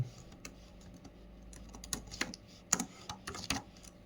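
A name is typed on a computer keyboard while writing a C program: quick, close, quiet key clicks in uneven bursts, with a few sharper taps near the end.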